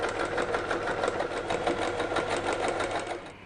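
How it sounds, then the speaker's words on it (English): A sewing machine runs a straight stitch along the long edges of a fabric lavender heat sack, giving a steady, fast, close mechanical whirr with rapid needle ticks that continues nearly unbroken before easing off. "Next, I'll sew both long edges, leaving the top end open to fill the sack."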